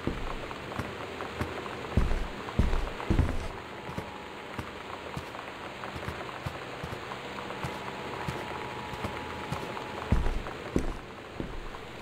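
Steady rainfall patters across a surface in an Itch.io video game, a dense constant wash with a few louder thumps and drops scattered through, no voices heard.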